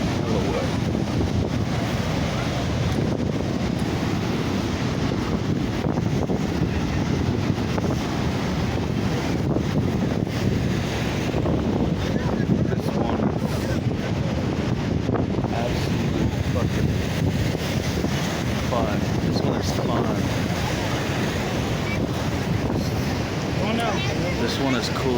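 A waterfall's rushing water makes a loud, unbroken roar that fills the whole stretch, with wind buffeting the microphone on top.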